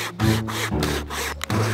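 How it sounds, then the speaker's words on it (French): A small survival-kit hand saw rasps through wood in quick back-and-forth strokes, close and fairly loud, about half a dozen strokes in a row. "Ça coupe le bois comme prévu."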